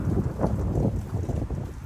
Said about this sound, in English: It's a brisk wind in my face right now.